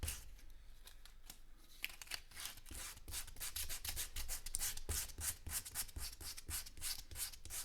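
Sandpaper rubbed by hand over a sliced tractor tire, quiet scratchy strokes that start sparse, then settle into a quick steady back-and-forth rhythm, close and alone.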